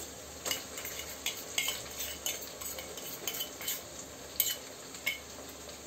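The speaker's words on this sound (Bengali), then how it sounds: "এবার আমি আদা রসুনের পেস্টটা দিয়ে দিচ্ছি।" Ginger-garlic paste goes into softened onions in a pan for a simple mutton curry. A soft, steady sizzle runs underneath while a spoon scrapes and taps the pan in irregular strokes, with no talking.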